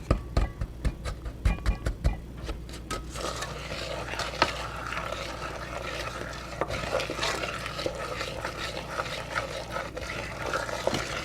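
A spoon scrapes and stirs packed brown sugar and salt into chocolate brownie batter in a bowl, starting with a few sharp knocks and then settling into a continuous close, wet, gritty mixing sound with no talking.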